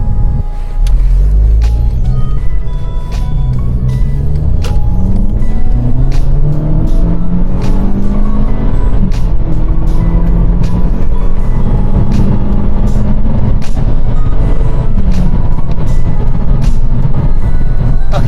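A remapped high-mileage Golf GTI accelerating hard from a junction, its engine heard from inside as a loud sustained roar with climbing pitch sweeps through the gears and constant road noise.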